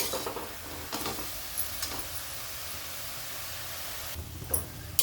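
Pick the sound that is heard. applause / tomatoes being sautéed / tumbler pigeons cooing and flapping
tomatoes being sautéed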